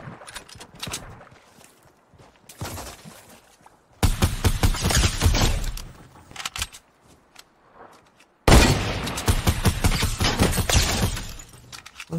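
P90 submachine gun fire in a video game, heard in two loud sustained rapid bursts separated by quieter stretches with faint clicks and movement, close and harsh, no talking.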